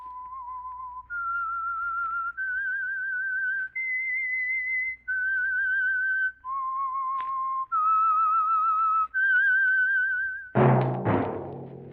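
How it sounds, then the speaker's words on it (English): Whistled theme for The Whistler radio drama, a lone melodic whistle of sustained pitched notes rising and falling in a slow phrase, close and clear, ending in a sudden burst of orchestral music. "That whistle is your signal for the Signal Oil Program, The Whistler."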